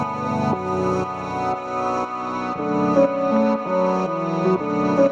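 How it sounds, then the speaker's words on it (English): A recorded voice is shaped with EQ, reverb and chorus into a sustained, shimmering pad-like tone, its pitch shifting in steps over a few seconds, with no plain speech. "put on a chorus as well"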